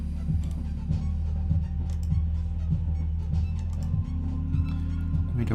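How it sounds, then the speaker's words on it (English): A live, jazz-style improvised jam on a modular synthesizer, with a low, pulsing bass pattern repeating steadily under sparse, ticking higher percussive blips at moderate volume. "This is what I made up out of the spot with a modular synthesizer"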